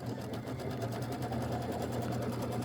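An embroidery sewing machine stitches a placement line on a quilt, its needle hammering in a steady, rapid mechanical rhythm with a low motor hum, close and continuous with no voices.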